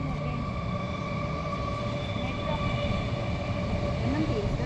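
A train rumbles past close by, a loud continuous roar with a droning whine that swells slightly toward the end.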